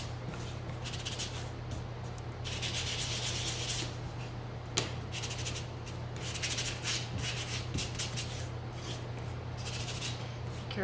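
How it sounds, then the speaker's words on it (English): A mini sunflower gnome craft piece being sanded by hand in soft, repeated scratchy strokes that come in bursts, quiet and close, over a steady low hum. "Careful sanding this one too"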